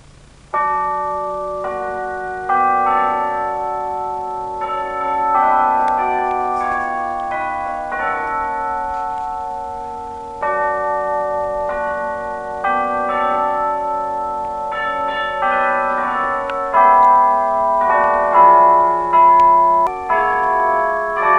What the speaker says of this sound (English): Bell tower that houses the bells, tolling the hour.